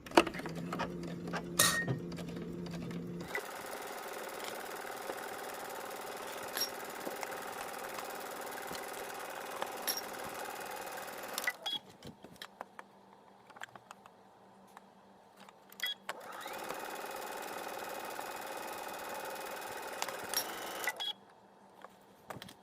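A sewing machine runs in bursts while back stitching a seam, its steady mechanical whir starting and stopping, with short quiet gaps between runs and faint clicks at each pause.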